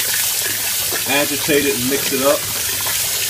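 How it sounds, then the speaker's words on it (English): Water runs from a tap into a container holding beer bottles for label removal, a steady gushing wash heard under a person talking close to the microphone. "you can run the water a little bit more"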